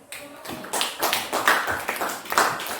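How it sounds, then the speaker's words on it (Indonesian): Scattered claps from a classroom audience applauding a presenting student group, uneven and moderately close, rising and falling in small bursts for a few seconds with no voices over them. "tepuk tangan untuk kelompok septic"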